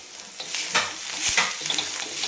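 Poppy seeds, white sesame and melon seeds being stirred on a hot griddle with the gas turned off, giving a steady dry rustling scrape with light crackle throughout, close and moderately loud, with no voices.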